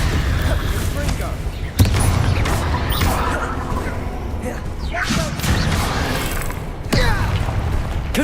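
Repeated Confringo fire-spell blasts from the Hogwarts Legacy video game, cast in a cavern, sound as several sharp impacts and crashes spread over a noisy, busy battle bed, with talk-like game sounds mixed in.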